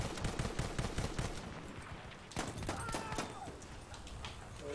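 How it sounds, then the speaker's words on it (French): Gunfire in the Battlefield 1 video game comes as fast, repeated bursts of shots, a rapid rattling volley that fades at times, heard at a moderate level under a busy battle soundscape. "Je tire à l'arrache."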